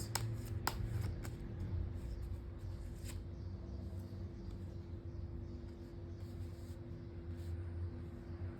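Tarot cards are shuffled close by, a soft steady riffling rustle with a few crisp snaps near the start, faint against a low background hum.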